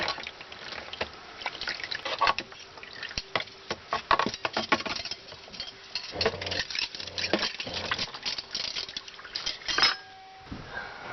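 A thin trickle of water runs from the tap of an off-grid camper, close and soft, patterning into a basin with light clinks of dishes and brief pauses in the flow.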